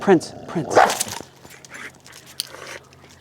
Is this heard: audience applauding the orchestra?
no